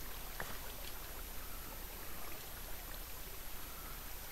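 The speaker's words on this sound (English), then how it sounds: "Can you hear the water running?" Steady running water, a continuous broadband rush like a stream or trickle, fairly quiet and even throughout with no voices.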